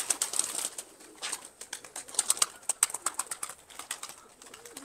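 Pigeons in a coop during a loft visit, with soft coos and chirps, rustling and brief wing movements scattered over a steady close-range background and no talk.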